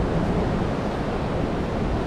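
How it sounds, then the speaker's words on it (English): Ocean waves break on Nai Harn Beach in Phuket, a continuous loud wash of surf mixed with wind buffeting the microphone, no voices. "And the waves here, if you want to do surfing, look better."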